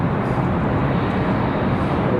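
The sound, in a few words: airplane passing at Raleigh Durham airport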